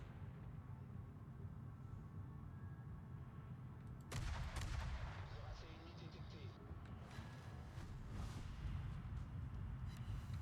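Naval shells fire and hit in the World of Warships game, a sudden loud boom with rumbling low-end aftermath over steady engine and sea background, faint and distant in the mix.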